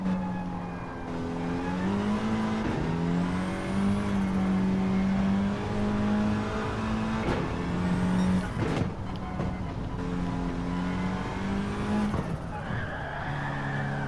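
A race car in Gran Turismo 7, driven with ABS off, roars with a sustained engine drone that rises and falls through gear changes, with tire squeal and skidding bursts as it slides, loud and without talk.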